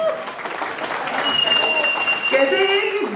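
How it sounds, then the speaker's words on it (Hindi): Applause from a crowd at a silver jubilee reunion event in Kanpur, dense clapping with a host's voice talking over it and a high tonal sound and music creeping in toward the end. "थोड़ी तालियां हो जानी चाहिए,"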